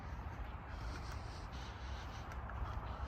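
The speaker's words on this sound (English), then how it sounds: "I can hear all birds singing here in Woods outside of me" Birds, crows among them, call in woodland just outside a parked truck at early morning, a steady faint chorus of scattered calls heard from inside the cab with no talking.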